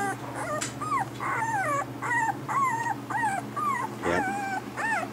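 Eight-day-old puppies whimper and whine in a close, continuous chorus of rising and falling high cries, with a low steady hum beneath.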